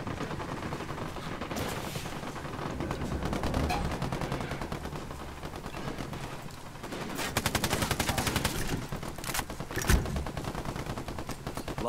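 Gunfire in the Tom Clancy's Ghost Recon Wildlands video game: a firefight of repeated shots and rapid automatic bursts, with a dense rattling volley in the latter half and a sharp single blast near the end. No one talks.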